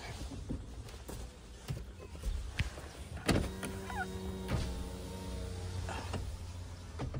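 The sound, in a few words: car power windows being lowered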